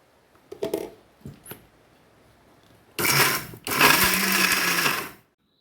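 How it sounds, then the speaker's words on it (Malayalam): A mixer grinder whirs loudly in two bursts, separated by a short pause, as it powders dry chammanthi ingredients with tamarind and salt, after a few faint clicks and knocks of loading the jar. "നമുക്കിത് പൊടിച്ചെടുക്കാം."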